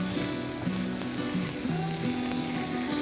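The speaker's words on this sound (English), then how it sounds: "I'm going to drain the rice and I'm going to add the soaked rice to the pan" Soaked rice hits hot oil in a pan for jeera rice, giving a steady close sizzle with faint scraping and stirring underneath, no voices.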